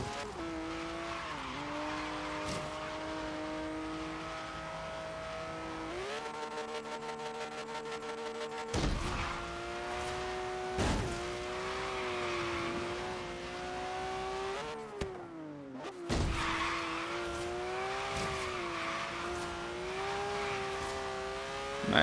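In Forza Horizon 3, a race car engine drones and revs steadily, its pitch shifting through gear changes, while tires squeal through corners and occasional thumps break in, loud and close throughout.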